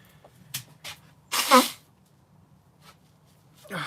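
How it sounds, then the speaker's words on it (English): A person blowing their nose in a workshop setting, one short loud honk near the middle, with a few faint knocks and small noises around it and no talk. "Excuse me, blowing my nose."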